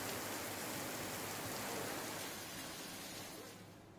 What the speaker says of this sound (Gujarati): ધોધમાર વરસાદની શરૂઆત થઈ.